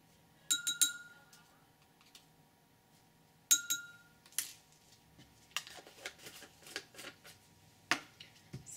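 Ascorbic acid is stirred in a glass container, producing bright clinks and taps of the stirrer against glass, then a run of quicker scraping and tapping strokes, close and fairly quiet.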